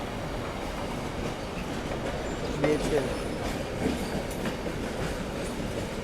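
A Vande Bharat train running from Mumbai to Pune passes through a station without stopping, with a steady rumble and clickety-clack of wheels at moderate distance while someone talks over it.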